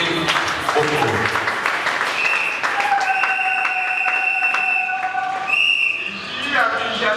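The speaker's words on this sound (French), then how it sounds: "Applaudissons le Seigneur." Church congregation at a Sunday charismatic worship service clapping loudly together, a dense sustained applause with whistles and crowd voices mixed in throughout.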